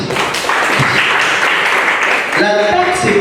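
Applause from a seminar audience fills the room for about two seconds, a dense wash of clapping that fades as a voice starts speaking.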